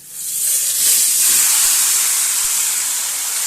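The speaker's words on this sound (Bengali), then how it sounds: "এবার ম্যারিনেট করে রাখা চিকেনটা আমি দিয়ে দিচ্ছি" Marinated chicken coated in a paste of onion, ginger, garlic, dried chilli and cumin hits a hot pan for biryani, giving a loud, steady, close sizzle that swells quickly and holds for several seconds, with no voices.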